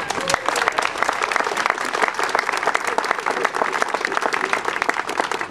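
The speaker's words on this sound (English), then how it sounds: "give yourself a round of applause for" Applause from an audience at an outdoor Walk for Water opening ceremony in Lake Oswego: dense, steady clapping that holds at a constant level throughout.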